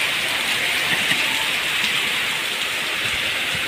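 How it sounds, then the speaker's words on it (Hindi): Very heavy rain pours down steadily in a dense, unbroken roar that holds an even level throughout, with no voices over it. "फिलहाल तो बहुत तेज़ बारिश हो रही है बहुत ही तेज़ बारिश"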